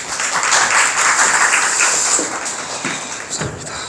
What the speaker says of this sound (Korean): 로빈한테 큰 박수 좀 부탁드릴게요